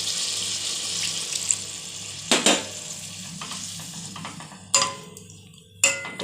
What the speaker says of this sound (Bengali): আর একটু জল দেবো আমি।